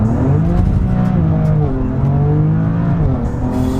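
BMW M4 CS with a stage 1 tune accelerating flat out on the throttle, heard from inside as a loud, continuous engine roar rising in pitch, with a brief dip and recovery partway through, and no talking.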